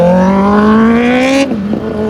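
A vehicle engine fitted with an aftermarket silencer revs hard and loud up close, its pitch climbing steadily before it suddenly drops back to a rough, lower idle.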